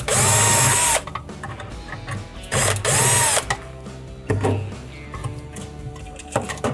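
A power drill backs out quarter-inch screws from the evaporator fan motor bracket inside a Hotpoint refrigerator: two loud, close whirring bursts, then a third, each followed by lighter ratcheting and clicking handling noises.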